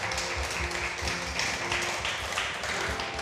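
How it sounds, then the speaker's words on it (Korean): Congregation applause in a church right after a closing prayer, a steady dense wash of many hands clapping at moderate loudness for the whole stretch, with no talk over it. "박수 한번 드리겠습니다."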